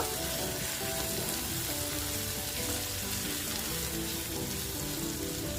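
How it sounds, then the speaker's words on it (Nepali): Chili, garlic and ginger paste fries in hot oil for a brinjal pickle, a loud, even sizzle that crackles close up and runs on without a break. "यसलाई पनि मजाले गोल्डन ब्राउन हुन्जेल फ्राई गर्नुपर्छ"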